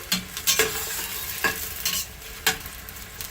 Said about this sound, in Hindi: अंदर ये अनियंस ये ऐड कर दूंगी। मैं हल्का सा इसको फ्राई करूंगी।